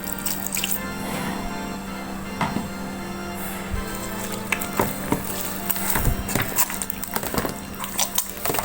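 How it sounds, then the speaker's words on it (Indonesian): Water trickles and drips into mushroom meatball dough for meat-free bakso, with a light running-water splash and scattered drips. The sound is faint and close, with no talk. "kita bisa tambahkan air secukupnya ya kawan-kawan"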